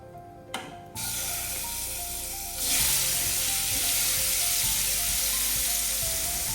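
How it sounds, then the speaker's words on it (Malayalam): Cleaned prawns dropped into hot oil in a pan, a brief clatter followed by a loud steady sizzle that swells further after a couple of seconds and keeps hissing. "എണ്ണ ഒഴിച്ചിട്ടുണ്ട് അതിലേക്ക് ഇതേ ചെമ്മീൻ ഇട്ട് കൊടുക്കാം"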